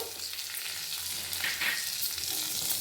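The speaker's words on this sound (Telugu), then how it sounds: "ఇదే టైంలో 1 కప్పు అటుకులు వేస్తాను. దీన్ని కూడా వేపుకుందాము." Poha and moong dal dry-roasting together in a pan, a steady close rustling hiss with faint stirring scrapes, continuous over a few seconds and free of speech.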